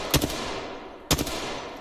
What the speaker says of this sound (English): I'm just firing blindly.